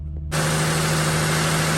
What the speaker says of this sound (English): Okay, we got the engine started and running.